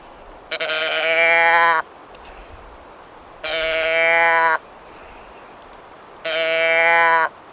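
Three bleats from a handheld can-style deer call for Coues deer, evenly spaced, each nasal and wavering for about a second, close and fairly loud.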